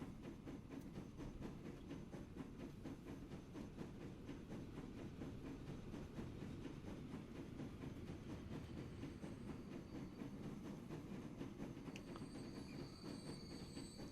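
A large steam locomotive hauls a train out of a station in the game Transport Fever 2, giving a steady rumble with rhythmic clickety-clack and wheel squeal, continuous and fairly faint throughout.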